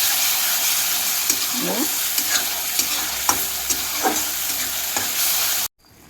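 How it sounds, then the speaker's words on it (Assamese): Ingredients for a restaurant-style paneer curry fry in hot oil, with a steady close sizzle and several sharp spatula scrapes and stirs against the pan, before the sound cuts off near the end. "এতিয়া হৈ গৈছে, দি দিলোঁ তেলত। ধুনীয়াকৈ ফ্ৰাই কৰি ল'ম।"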